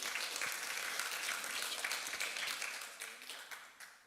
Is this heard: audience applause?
yes